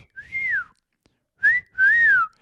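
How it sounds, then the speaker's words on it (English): A person whistles three clear tones, each gliding gently up and down in pitch, with short pauses between them in a quiet room. "What I was surprised is I could then whistle a couple tones"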